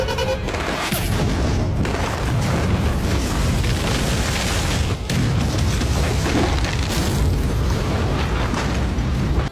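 Bombs exploding at an entrance in a movie scene, a dense, sustained roar of blasts and rumbling debris with a sharp burst near the start and another jolt midway, loud and continuous.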